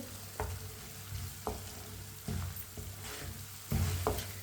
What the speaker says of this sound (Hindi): मिक्स करके आधे मिनट के लिए पका लेते हैं चम्मच चलाते हुए।